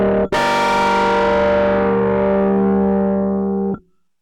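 A Moogerfooger MF103 phaser pedal runs with its controls at maximum, giving a loud sustained buzzy tone that sweeps with swirling phasing for several seconds after a brief break, then cuts off abruptly.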